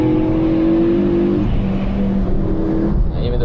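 A Ford Focus RS500 rally car engine drones loud and steady as it accelerates, a sustained close roar with a rising tone and no talk over it.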